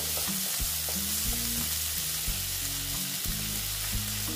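Vegetables for a poppy-seed dish fry slowly in a pan, giving an even, unbroken sizzle while gentle background music with deep bass notes plays underneath.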